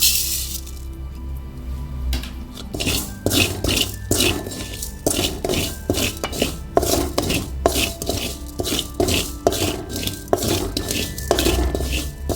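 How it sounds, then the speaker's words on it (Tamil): Sesame seeds roast in a pan for a moringa leaf podi, giving a steady run of close scraping and clinking as a spoon stirs them against the metal, with no talk. "எள்ளு நல்லா பொரியிற அளவுக்கு வறுத்துக்குங்க"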